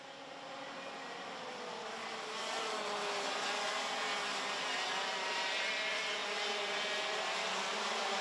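Pack of Junior X30 racing karts on the formation lap at Ostricourt, a dense blended engine drone heard from a distance that swells slightly and then holds steady.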